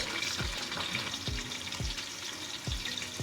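Onion and curry leaves fry in hot oil, a steady close crackling sizzle with occasional low thumps of stirring throughout.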